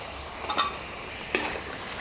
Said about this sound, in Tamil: நான் உருளைக்கிழங்கு சேர்த்துடுறேன்.